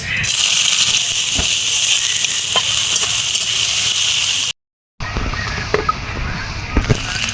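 Onions sizzle loudly in hot oil in a kadai with a steady hiss, broken by a brief moment of silence before the crackling resumes.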